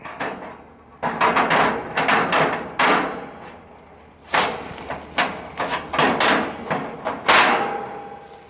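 A metal smoke box loaded with wood chips is set into a gas grill beside the grate, making a series of close, loud metallic clunks and scrapes in uneven bursts.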